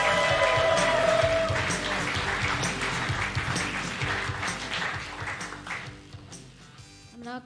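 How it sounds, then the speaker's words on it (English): A comedy festival audience claps and cheers, loud at first and gradually thinning out, with a few scattered claps near the end. "Do you want to start cheering, clapping?"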